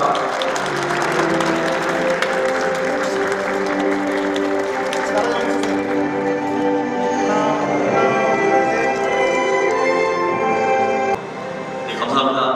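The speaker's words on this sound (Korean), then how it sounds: "박수 부탁드립니다." An audience at an alumni association president's inauguration ceremony claps steadily, a sustained round of applause under background music, dropping briefly near the end before continuing.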